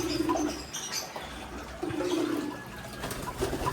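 Pigeons in a backyard bath coo in low, soft bursts, with a few faint chirps over a steady background hum.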